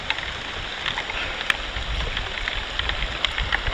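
Steady rain hisses down outdoors during a fishing trip, with a few faint sharp ticks and a low rumble underneath, and no voices.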